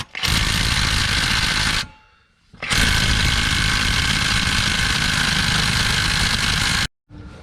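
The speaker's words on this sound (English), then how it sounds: "you're going to take a 24mm socket and take your crank bolt out" A GM 3800 engine's crank bolt is driven out with a 24mm socket on a loud, close impact tool, two long continuous bursts of hammering rattle split by a short pause, ending abruptly.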